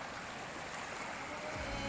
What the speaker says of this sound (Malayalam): നമ്മൾ ആദ്യത്തെ വെള്ളച്ചാട്ടം ഇവിടെ ഉണ്ട്